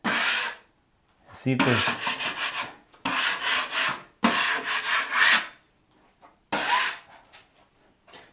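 An 8-inch drywall knife scrapes in long rasping strokes over patches of joint compound, four or five loud, close passes separated by short pauses, with a brief muttered phrase in between.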